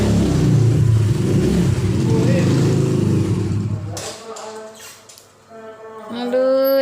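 A motorcycle arrives home with a loud revving engine for several seconds before it cuts out, followed by short high-pitched calls and a voice.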